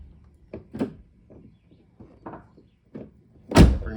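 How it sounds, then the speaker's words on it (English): Door of a 2006 Ford Focus ZX4 SES under rebuild being worked, with a few light clicks and latch knocks followed by one loud, sharp closing thud near the end. "you can see opening this door"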